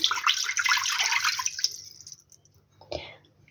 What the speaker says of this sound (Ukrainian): Вливаю водичку